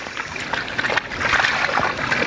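Floodwater rushes over a flooded rural road past waterlogged fields, a continuous rippling, gushing flow heard fairly close with no voices.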